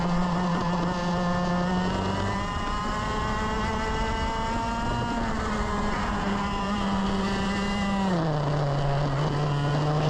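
A speedway racing motorcycle engine during a race at Ipswich: a loud, steady, high-pitched buzzing drone that holds its pitch, then drops noticeably near the end as the bike eases off.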